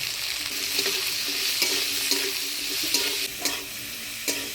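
Potato and eggplant stir-fried in oil with turmeric and salt in a village kitchen, a steady bright sizzle broken by regular scraping strokes of a spatula roughly every second, close and moderately loud with no talking.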